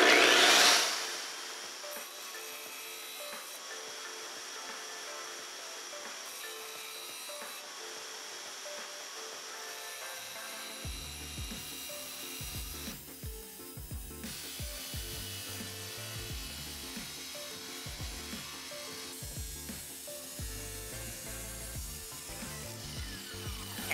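An IQ tile saw hums steadily, then bites into porcelain tile about halfway through with a rougher, grinding cutting tone under the motor drone.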